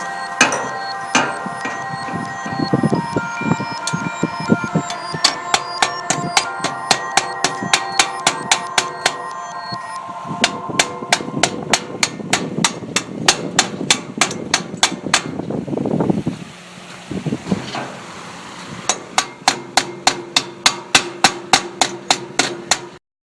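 A hammer beats slag off a weld in a steady rapid rhythm, sharp ringing blows on metal close up, with a short pause partway through.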